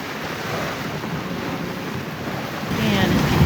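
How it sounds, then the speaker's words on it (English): Ocean waves near a sailboat in shallow, kelp-filled water: a steady rushing wash of surf with wind buffeting the microphone, growing slightly louder toward the end, with no talk. "there are waves right there"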